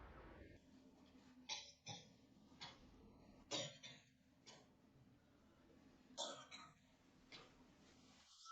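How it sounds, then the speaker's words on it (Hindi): A person coughs several times in short, irregular bursts, quiet and close, with soft breathing between the coughs. "तुम क्यों खांस रहे हो?"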